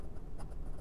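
A 1940s Waterman Skywriter fountain pen with a 14 karat gold number 5 nib writes on Clairefontaine 90 gsm paper, giving a faint, close, soft scratching in short irregular strokes.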